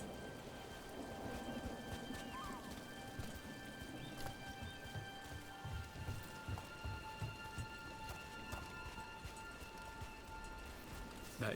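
Steady rain hisses and patters across a Dragon Age: The Veilguard game scene, with soft thumps of footsteps or hooves and faint tonal hums underneath, all at a low, even level.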